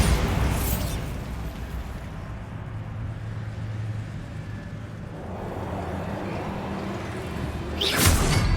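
A Bombarda blasting spell goes off in Hogwarts Legacy as a deep, rumbling explosion with a crackling burst at the start, then a long low roar that fades and swells into a second bright whoosh near the end.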